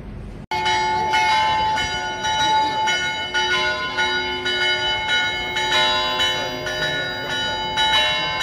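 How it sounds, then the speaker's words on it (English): The Swiss glockenspiel clock in central London, with 27 bells, chiming on the hour: a long, loud ringing melody of overlapping bell tones that starts abruptly and carries on without a break. "The 27 bells and 11 figures move on an hourly basis and normally ring for about 3 minutes after the top of the hour."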